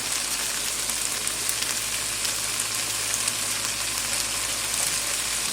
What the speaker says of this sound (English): stirring the onions good until they're nice and tender and starting to get golden brown